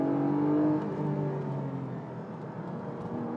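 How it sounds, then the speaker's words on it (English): Porsche 718 GTS 4.0 engine held at high revs on the move, a loud, steady, sustained drone with a slight dip and leveling after the first second, heard close and alone without talk. "really early throttle openings, a lovely punchy mid-range, and a zingy top end. I'm just leaving those revs high."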